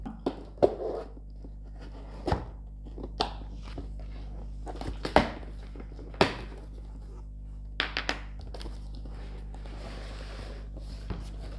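A blade cuts through the seal on the box of a Boat 120 W soundbar during an unboxing, giving a few scattered scrapes and sharp ticks over quiet room hum.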